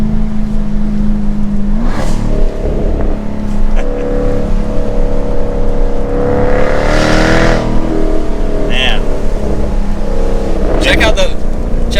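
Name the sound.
Jaguar F-Type R V8 sports car engine driving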